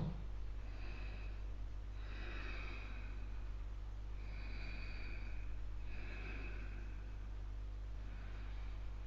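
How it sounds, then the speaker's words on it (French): Slow, deep breaths during a yoga session, about four soft rhythmic inhale-exhale cycles over a steady low hum, close and quiet with no talk. "Encore deux bonnes respirations."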